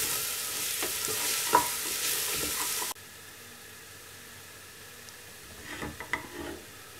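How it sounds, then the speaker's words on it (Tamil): Crushed ginger and garlic sauté in a pan for chicken curry, a loud close sizzle with a few spatula scrapes that cuts out abruptly partway, then quieter stirring scrapes and clatter near the end. "இதில் இஞ்சி பூண்டு இடித்து வச்சுருக்கிறத ஆட் பண்ணணும். ஆட் பண்ணிவிட்டு இதை நல்லா வதக்கி வச்சிடலாம்."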